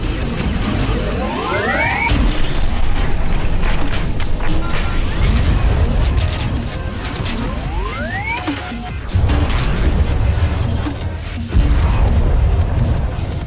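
Grenade explosions in a VR pirate video game sound as repeated booming crashes and whooshes over a dense, loud game soundscape, with rising swishes of thrown or fired objects between the blasts.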